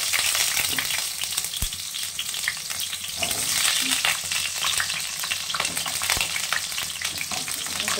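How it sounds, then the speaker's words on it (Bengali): Pointed gourd and potato pieces fry in mustard oil in a kadai, giving a loud, dense sizzle that runs throughout. A spatula adds occasional knocks and scrapes against the pan, close up, with no talking. "পটল আলু সবই ভাজবো।"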